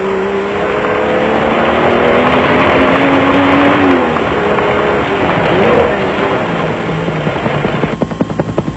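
Off-road race vehicles, a Chenoweth and a Castrol Toyota Hilux, at the 1997 Trans-Tongoland Off Road Race in South Africa, roar loudly and steadily with rising and falling engine tones, and a commentator's voice runs over them.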